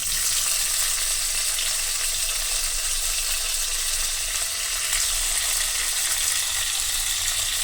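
Garlic, chopped onion and tomato fry in hot oil with cumin seeds in a pan, a steady loud sizzle and crackle running unbroken without talk.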